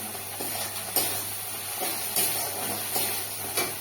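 Spiced masala for a loach fish curry sizzles in a little oil in a pan, giving a steady crackling hiss with soft stirring scrapes at roughly one-second intervals.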